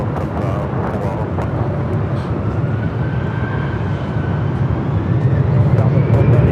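An airliner takes off at LAX with a steady, loud jet roar that builds toward the end, heard from a spotting position, with radio voices occasionally in the background.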